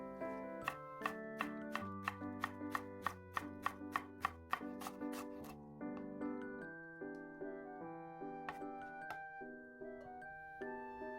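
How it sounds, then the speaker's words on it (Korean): A knife finely minces the white part of green onion (daepa) on a cutting board, with a quick, regular run of sharp chops for about five seconds that then stops, over light plucked music. "흰 대부분은 역시 4등분으로 자른 다음에 잘게 다져주세요"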